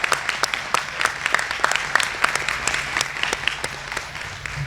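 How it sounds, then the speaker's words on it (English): Steady audience applause at a service awards dinner, many hands clapping at once in a dense, sustained patter with sharper individual claps standing out near the front, little talk. "Let's give her a round of applause."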